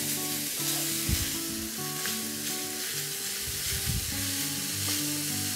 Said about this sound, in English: I'm going to add the mince to the pan. And I'm going to break it up so it doesn't form large clumps